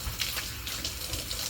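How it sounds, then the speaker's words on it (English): Tap water runs steadily into a sink during handwashing after cutting jalapenos in a kitchen, a continuous close hiss with no talking. "you always want to wash your hands after cutting jalapenos"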